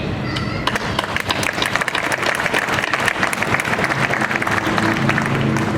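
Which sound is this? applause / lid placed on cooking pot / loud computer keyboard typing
applause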